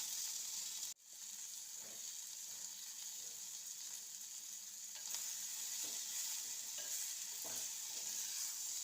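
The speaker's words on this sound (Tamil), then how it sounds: "வெங்காயம் தக்காளியும் வதங்கிறதுக்கு கொஞ்சமாக கல்லுப்பு சேர்த்து வதக்கிக்கலாம்" Steady sizzling and frying of onions and tomatoes with rock salt in a pan, with occasional stirring scrapes, close and fairly quiet, no talking.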